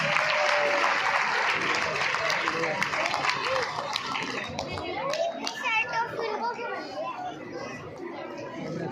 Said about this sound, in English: Clappings, everyone, clappings